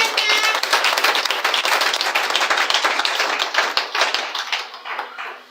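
A church congregation claps together in acclaim to God, dense rapid applause from many hands, loud and close, fading toward the end.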